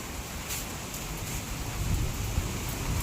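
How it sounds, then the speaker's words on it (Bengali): Steady rain falling since morning, with a low rumble of thunder swelling toward the end, a continuous close hiss with no voices. "এই যে সকাল থেকে বৃষ্টি শুরু হয়েছে এখন বাজে 11টা এখনো বৃষ্টি হইতেছে"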